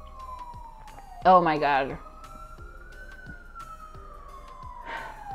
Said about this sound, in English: every time I try to record a video, an ambulance has to go by, or the police